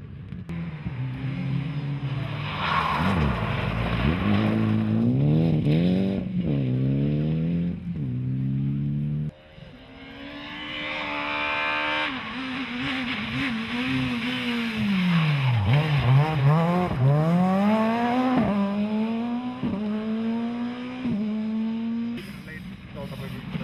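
Rally cars, including a Mitsubishi Lancer Evo 9 in R4 specification and older Lancers, race on a stage, engines revving hard and shifting through gears as they pass close by, with a voice talking over the engine noise throughout.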